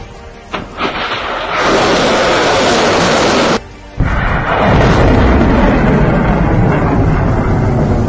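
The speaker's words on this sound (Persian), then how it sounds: "حالا سامانه موشکی که به تازگی به یگان موشکی نیروی زمینی سپاه الحاق شده به هدف خودش شلیک خواهد کرد" A missile system of the Revolutionary Guard ground forces launches at a target during coastal exercises, roaring out with a heavy blast, a brief drop, then a sustained loud rushing roar that continues to the end.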